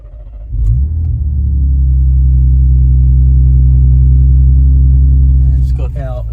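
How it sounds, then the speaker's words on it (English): A Ford Raptor twin-turbo V6 with a Dynomotive bimodal 3-inch full exhaust fires up from cold, catching in a quick burst and settling into a loud, deep, steady idle rumble, with a voice briefly speaking at the end. "With our Dynomotive full exhaust system on it. Let's hear the cold start"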